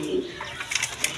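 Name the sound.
Spanish Gorgori Border pigeons cooing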